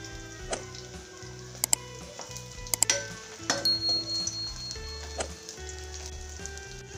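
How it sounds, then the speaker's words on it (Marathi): A fasting-style thalipeeth flatbread fries in a pan on medium heat after being flipped, giving a steady low sizzle with scattered clinks and taps of a utensil against the pan. "आता दुसऱ्या बाजूनेही आपण व्यवस्थित तळून घेऊ"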